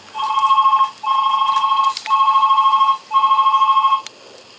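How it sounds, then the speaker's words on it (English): A telephone rings indoors, four loud, even electronic trilling rings in steady rhythm, each about a second long with short gaps between, alone without talk. "The phone's ringing"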